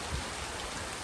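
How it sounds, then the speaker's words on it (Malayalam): Rain falls steadily outdoors, a soft, even hiss of drops that stays faint and unbroken, with no voices. "കാരണം നല്ലൊരു മഴ ഉണ്ട്"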